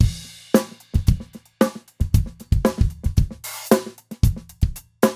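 A drum groove layers soft ghost notes on the snare between the main backbeats and kick hits over a running hi-hat pattern, producing a busy, dense rhythm of accented and quiet strokes.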